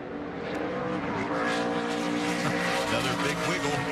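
A NASCAR Truck Series truck, the number 34, roars around Bristol's short track on a qualifying lap, its engine a loud, steady, sustained drone from start to finish with a dense, unbroken roar.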